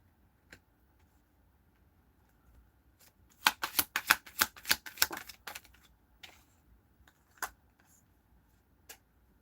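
A deck of tarot cards is riffled in a quick burst of crisp rapid clicks, followed by a few scattered card taps in an otherwise quiet room.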